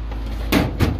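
A screw drawer in a home toolbox slides open, giving two quick, close scraping clunks about a quarter second apart over a steady low hum.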